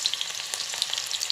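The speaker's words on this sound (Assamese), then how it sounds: "তেলত পিঁয়াজ অলপ দিছোঁ। পিঁয়াজখিনি অকণমান ভাজি ল'ম।" Chopped onions fry in hot oil for a duck meat curry, a soft continuous sizzle dotted with tiny bright pops and crackles, close up and steady, with no talking.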